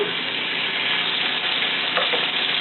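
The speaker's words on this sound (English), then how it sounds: "Got a nice little sizzle going on." Steady crackling sizzle of seasoned pork chops frying in a hot oiled skillet over medium-high heat, continuous and fairly loud, with no voices.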